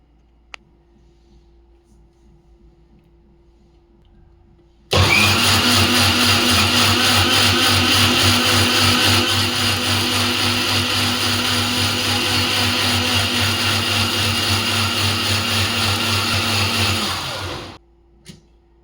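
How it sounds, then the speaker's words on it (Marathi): An electric mixer grinder switches on with a loud whine and grinds masoor dal with ginger and water for about thirteen seconds before winding down, preceded and followed by quiet. "व्यवस्थित फाईन असं हे मिक्सरला दळून घ्यायचं आहे"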